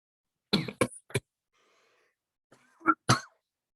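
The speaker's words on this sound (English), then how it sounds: "Sorry about the coughing." A person coughs in short bursts, three quick coughs close together, then a pause and two more harsh coughs, close and clear in a quiet room.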